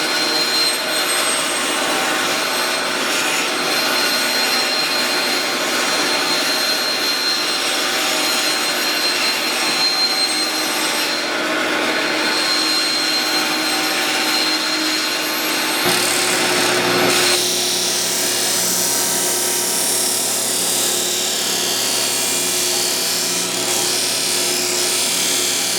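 A power tool cuts aluminum angle into 3-inch pieces for a 1937 Studebaker body build, giving a loud continuous whine and grind. Partway through the pitch drops and the tone changes as the blade bites through, and there is no talking.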